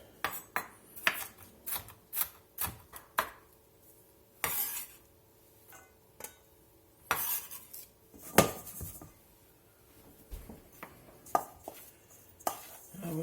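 A knife chops jalapenos on a cutting board in a steady series of sharp, close taps with short pauses between bursts, alone with no talking.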